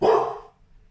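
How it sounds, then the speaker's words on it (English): A single sharp dog bark rings out loud and close indoors, then cuts off fast into near quiet. "There's no need to bark."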